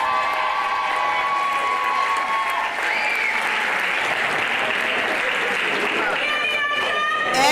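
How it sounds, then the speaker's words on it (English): A college graduation audience breaks into broad, steady applause with some scattered cheering, loud and sustained throughout, with a voice speaking faintly in places. "Give them another round of applause."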